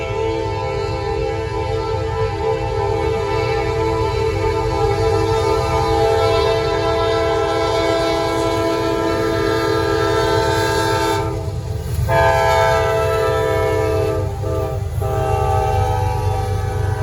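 A long, loud Norfolk Southern freight train with a mid-train Union Pacific ACE DPU rumbles steadily past close by while its horn sounds in sustained blasts.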